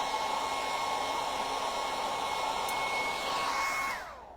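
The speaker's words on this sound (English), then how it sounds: "Let's just touch that with the hairdryer." A hair dryer blows in a steady, loud whoosh with a faint whine, drying stenciled paint on a canvas, then cuts off near the end as it switches off.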